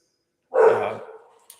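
A dog barks once, close and loud, with a short tail of sound after it, then falls silent.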